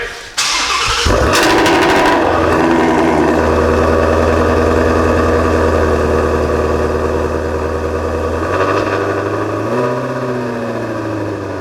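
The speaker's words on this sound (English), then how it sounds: "We'll fire it up and let it idle for a little bit." Ford Cobra Jet drag car engine cranks and fires up, then settles into a loud, lumpy idle with a deep steady rumble and a brief blip of revs near the end, alone without speech.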